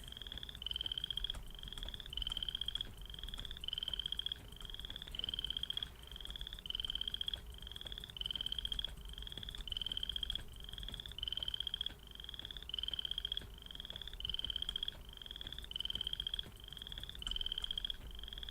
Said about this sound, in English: Hard to see those frogs wandering around out there.